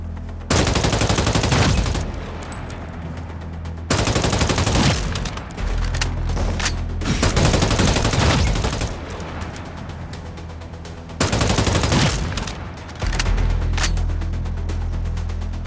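Bursts of loud gunfire in the action game City of Outlaws, several long rapid volleys separated by short pauses, dense and close throughout.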